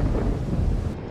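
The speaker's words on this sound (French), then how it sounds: "C'est l'orage." Deep, loud rumble of storm thunder in a submarine video game, a continuous low roar filling the short moment without any voices.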